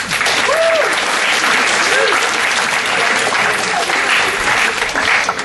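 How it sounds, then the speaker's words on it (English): An audience at a talk about careers that do the most good gives a loud, continuous round of applause, dense clapping that holds steady for several seconds, with a few voices faintly audible beneath it. "firstly, we should give a round of applause"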